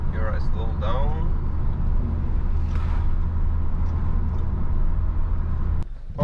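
Peugeot 308 GTI 1.6 Turbo hatchback slowing down on the road, heard from inside the cabin as a steady low engine and road rumble, with a voice speaking over it early on and a brief knock near the end.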